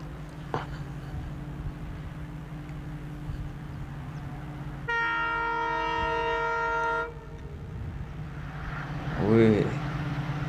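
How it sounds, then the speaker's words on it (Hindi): An Indian Railways diesel locomotive gives a loud, sustained multi-tone horn blast lasting about two seconds over a steady engine rumble, followed by a rising wavering tone near the end. "एक ज़बरदस्त डीजल लोकोमोटिव"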